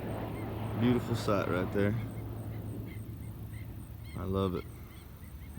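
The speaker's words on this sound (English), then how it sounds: "Every one of them's ducks. It's all ducks." A flock of ducks flying overhead gives a few honking, nasal calls in short bursts, moderately close, over a steady background hum while someone talks.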